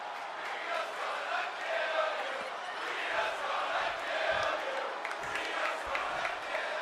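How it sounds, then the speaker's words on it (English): Wrestling arena crowd in the WWE 2K24 video game roars and cheers in a steady, dense wash of noise that holds throughout. "you can hear the crowd right now"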